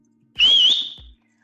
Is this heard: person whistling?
yes